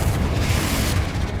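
The Confringo explosive spell from Hogwarts Legacy, a dense, loud, continuous blast-like roar that fills the brief moment with heavy low rumble.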